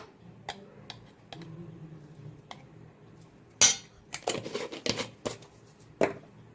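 Spoon clinking and scraping against a bowl while chicken is mixed with chilli powder, salt, garam masala and coriander powder, scattered light taps at first, then a louder burst of wet stirring and knocks.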